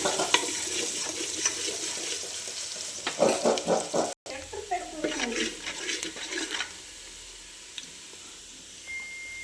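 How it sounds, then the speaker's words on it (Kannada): Chopped onions sizzling in hot oil for chicken biryani masala, a steady close frying hiss broken by scraping stirs and a short clatter, with a faint voice briefly in the background. "ಹಾಕಿ ಗೋಲ್ಡನ್ ಬ್ರೌನ್ ಬರೋವರೆಗೂ ಫ್ರೈ ಮಾಡಬೇಕು."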